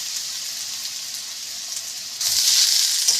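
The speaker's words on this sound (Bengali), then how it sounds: "এবার কড়াইতে দিয়ে দেবো সর্ষের তেল, আর সব আলুগুলো কড়াইতে দিয়ে" Potatoes dropped into hot mustard oil in a wok, a steady close sizzle that suddenly surges louder and hissier as the potatoes hit the oil, continuing at that level.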